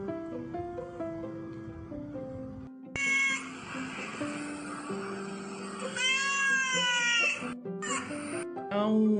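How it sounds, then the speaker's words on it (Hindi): A cat meows several times as a sound effect in a Hindi radio story, with drawn-out, whiny cries close up, set over background music and narration. "आऊं की आवाज आई और एक बिल्ली बास बेसिन से कूदकर रोशनदान में लगे एग्जॉस्ट पर चढ़ गई"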